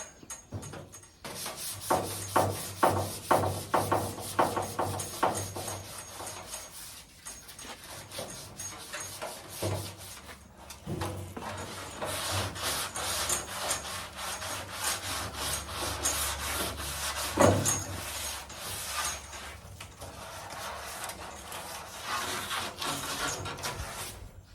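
Steady back-and-forth rubbing of 400-grit sandpaper on a hard surface of a 1972 Volkswagen Super Beetle, continuous rhythmic strokes close up, no talking.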